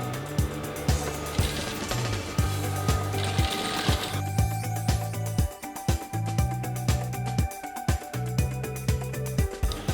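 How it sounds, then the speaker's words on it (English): A sewing machine stitching two fabric pieces of a Yoruba abeti aja cap, giving a close, steady mechanical whirring with rhythmic tapping clicks and brief stops between stitching runs. "Now I'm stitching the second pieces of the cap."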